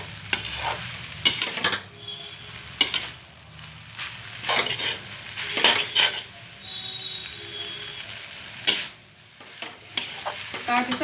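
Chowmein with tomato sauce being stir-fried in a pan, with steady sizzling broken by repeated bursts of scraping and tossing from a spatula, close and fairly loud.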